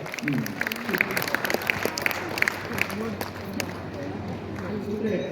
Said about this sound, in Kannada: ಮತ್ತೊಮ್ಮೆ ಜೋರಾದ ಚಪ್ಪಾಳೆ